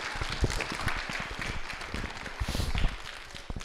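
A church congregation gives a short round of scattered, moderately distant clapping that continues unevenly for a few seconds, with no one speaking over it.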